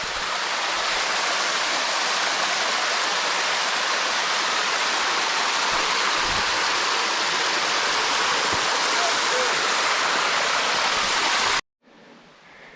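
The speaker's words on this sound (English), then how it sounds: "Just a little cascade before we slide off on a side gully" A small cascade on Western Creek, rushing water pouring steadily, loud and close, a constant white-noise roar that cuts off abruptly near the end.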